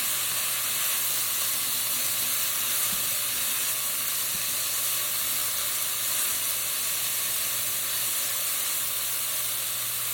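Sauce for Asian-style orange chicken with a touch of red wine vinegar sizzling in a hot pan, a constant even hiss of steam and frying, steady and close with no voices.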